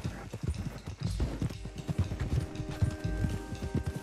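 Horse hooves gallop in a steady clip-clop rhythm while riding in Red Dead Redemption 2, close and continuous under background game music with tonal lines.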